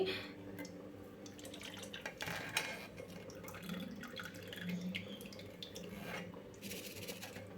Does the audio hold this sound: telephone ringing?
no